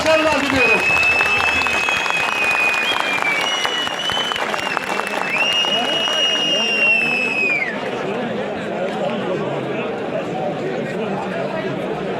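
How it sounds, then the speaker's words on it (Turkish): A large crowd applauds a retiring head wrestler at a Turkish oil wrestling event, loud sustained clapping under a whistled or sung tone and crowd noise that eases slightly toward the end. "baş pehlivanlarımızın omuzlarında coşkuyla alkışlıyoruz"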